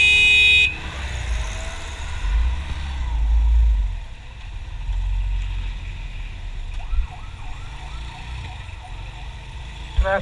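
Roadside traffic noise with a sharp car horn honk at the start, steady engine rumble, and a few more brief toots and siren-like wails further off later on.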